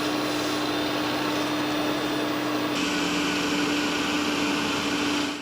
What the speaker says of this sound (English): it's much quieter than older models, even when it's running its vacuum